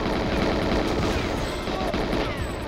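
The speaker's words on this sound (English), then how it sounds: "They're all shooting at me." Continuous gunfire in the 007 GoldenEye video game, a dense, steady barrage of shots filling the whole stretch at close range with no talking over it.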